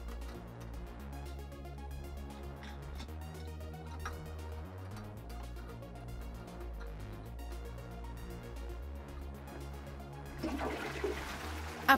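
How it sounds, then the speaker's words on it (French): A newly installed toilet bowl flushes with a steady rushing gush of water in a bathroom, continuous and moderately loud, with a brief louder swirl near the end. "vous pouvez régler la hauteur de la chasse pour ajuster le débit d'eau"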